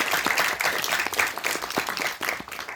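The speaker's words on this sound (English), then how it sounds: "So give a round of applause to Ms." An audience at a sustainable development forum applauds a speaker, a steady, dense patter of many hands clapping that fills the room at moderate loudness with no voices over it.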